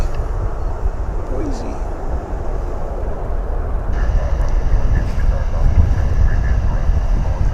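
An airliner takes off from a DFW Airport runway, heard from afar as a broad, steady roar that swells slightly near the end. Wind buffets the microphone throughout, and no one speaks.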